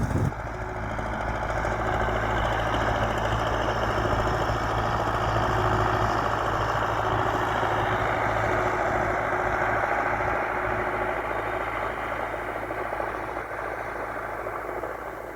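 A vehicle engine runs steadily as it drives onto a pea field, a continuous mid-to-low idling drone with faint vibration that stays even and moderately loud, with no speech.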